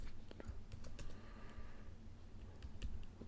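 Steady keyboard typing while code is entered on a computer, a quiet, continuous patter of small key clicks with irregular rhythm and no talking.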